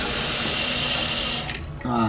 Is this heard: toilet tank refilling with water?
yes